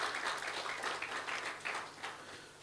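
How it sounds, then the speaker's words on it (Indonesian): A worship congregation at an online church service claps steadily, a soft, fairly distant patter of many hands with no speech over it. "Mari kita beri tepuk tangan untuk Tuhan."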